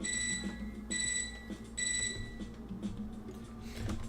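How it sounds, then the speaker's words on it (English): A computer terminal in a video game beeps in a repeating pattern of three high electronic tones over a low background hum, each beep about half a second long with short gaps. "Suddenly, I'm startled by my silent contemplation, by a beeping from my computer terminal."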